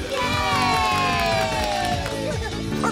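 Cartoon crowd of children cheering and whooping loudly together for a parade, a dense, continuous burst of high shouts with a bright rising whistle-like tone over it.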